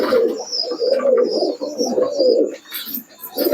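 Pigeons coo steadily in a loft at night while being fed, several birds overlapping in a continuous, close, rolling murmur with a few brighter chirps.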